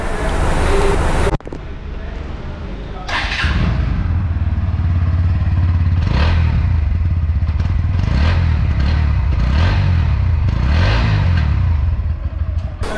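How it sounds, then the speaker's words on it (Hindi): A 2023 Bajaj NS 125 Fi motorcycle engine cranks and fires up, then settles into a loud, thumpy idle with occasional revs swelling and falling. "अब मैं इस गाड़ी का आपको इंजन का साउंड सुनाने वाला हूँ।"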